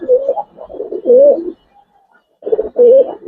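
Gribaz coloring pigeons in a loft give loud, close, throaty coos in two bursts with a short quiet gap between them.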